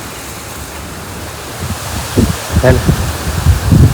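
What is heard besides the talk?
strong wind blowing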